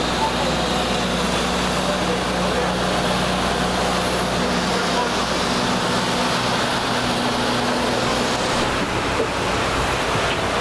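Inside the cabin of a Sri Lankan Airlines Airbus A330-200, a loud, steady engine roar and airflow rush fill the space, constant and unchanging throughout.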